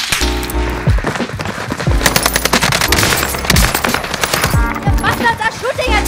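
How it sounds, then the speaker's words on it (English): Enemy gunfire in Call of Duty with an NZ-41 loadout: loud automatic bursts and rapid shots, close and repeated, mixed with game effects and some talking. "The bastards are shooting at"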